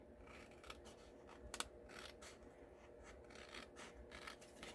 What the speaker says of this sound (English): you just take your scissors and you just trim that little piece that's sticking out away